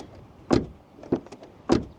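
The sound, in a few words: Škoda Scala car door opening and closing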